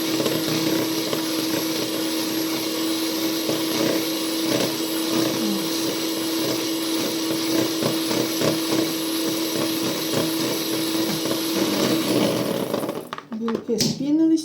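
An electric mixer whipping eggs whirs continuously at close range with a steady motor hum and rattling beaters, then cuts off near the end as a voice speaks.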